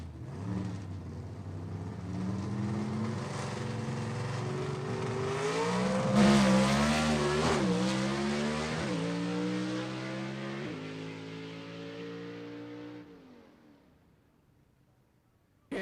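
A gasser drag race car at Gulfport Dragway revs hard for several seconds, its loud engine note climbing and wavering at high RPM before cutting off and fading to near silence.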